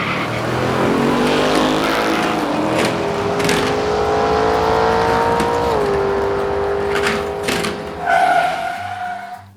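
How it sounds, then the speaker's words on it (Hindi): A high-speed sports car races laps on a track, its engine a loud sustained drone that rises and shifts in pitch, with a brief louder surge near the end before it cuts off. "वाह, ये तो तेज गति वाली स्पोर्ट्स कार है।"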